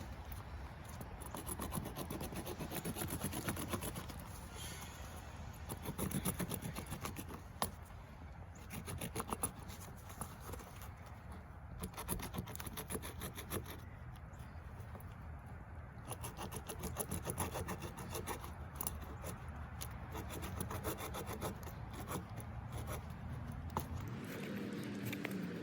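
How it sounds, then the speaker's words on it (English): An axe multi-tool's built-in saw cuts through a small piece of wood, giving a steady, continuous rasping scrape that runs close and fairly loud throughout, with no talking. "So now let's start sawing."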